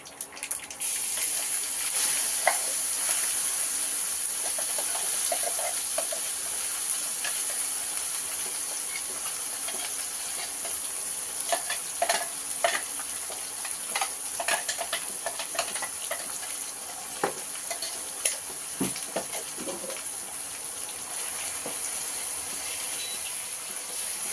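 Hot oil tempering sizzles and crackles steadily in a pan for curry leaf pickle, with scattered sharp pops and the occasional scrape of stirring.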